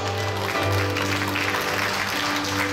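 Crowd at a firefly-season press conference in Namasia district applauds steadily, a continuous wash of clapping heard over a low background hum.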